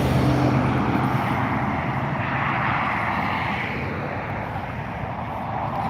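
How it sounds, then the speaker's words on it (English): An Aer Lingus Airbus A330-300 taxis at Dublin Airport, its jet engines giving a loud, steady roar and whine that drifts slightly over several seconds with no voices. "Taxiing there is the flight to San Francisco, and Aer Lingus A330-300"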